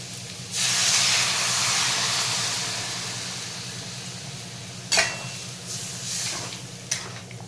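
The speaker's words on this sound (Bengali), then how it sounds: "দেখুন তরকারিটা হয়ে গেছে, ভালোভাবে ফুটেও গেছে" Soybean curry bubbling in a pot gives a steady hissing, steamy boil near the microphone, with a few sharp clinks of a spoon or lid near the end and no talking.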